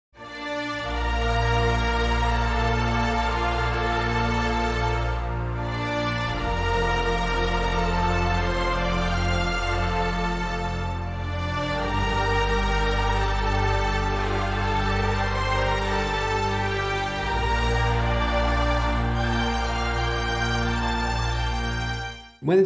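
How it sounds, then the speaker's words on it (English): Orchestral passage with viola, cello, double bass, sub bass and choir holding sustained chords beneath violins, a full, loud, continuous wall of sound with deep low end and gentle swells at each chord change. "Chords are being played by the viola, cello, double bass, sub bass and also the choir."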